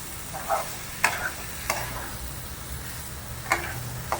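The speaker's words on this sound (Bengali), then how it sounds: "এই এঁচোড় এবং আলু একসঙ্গে ঢেলে দিলাম। তারপর এটা মশলাটা এর সঙ্গে পুরো মিশিয়ে নেব।" Jackfruit and potato pieces being stirred into frying spices, soft sizzle under several sharp spoon scrapes and knocks against the pan at irregular intervals, close by and with no talk.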